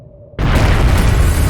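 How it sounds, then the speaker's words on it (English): A bomb detonates in the video game Trails of Cold Steel, a sudden loud booming blast that erupts after a brief quiet and rumbles on to the end. "What? A bomb?"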